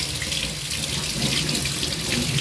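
Tap water pours steadily into a sink while raw chicken feet are washed under it, a loud continuous rush with light splashing and no voices.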